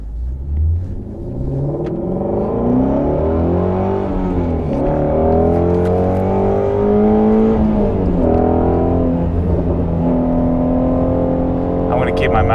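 A Ford Shelby GT350 driven hard on backroads, its engine rumbling loudly and revving up and down through rising and falling pitch sweeps, close and continuous throughout.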